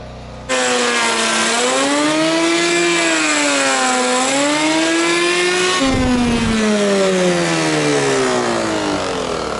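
An electric wood planer runs loudly for several seconds with a droning, wavering motor pitch that sags and recovers as the clogged cutter labors, followed by a brief jolt and continued running.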